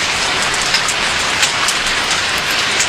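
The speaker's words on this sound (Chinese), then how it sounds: "下雨了，先生，快躲雨去吧。" Steady, dense rainfall hiss, loud and close, with occasional sharper drop patters on a surface and no voices.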